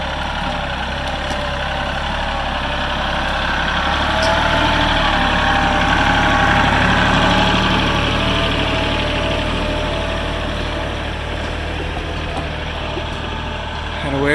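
A heavy diesel tractor engine idles steadily and close by, a continuous low rumble with mechanical clatter that swells slightly midway.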